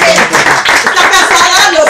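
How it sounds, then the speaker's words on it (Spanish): An audience at a motorcycle club gathering breaks into applause, dense clapping from many hands close by, with voices calling out over it. "¡Un aplauso, por favor!"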